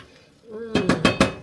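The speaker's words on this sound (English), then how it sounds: "Give that a stir." A spoon stirring chicken meatball soup with pasta in a pot, four quick, bright clinks of metal against the pot in a fast rhythm, close and fairly loud after a brief quiet lead-in.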